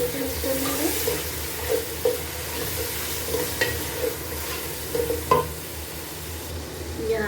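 Fried minced meat with chopped tomatoes is stirred in a pan, with a steady sizzle under repeated scraping strokes of a spoon against the metal.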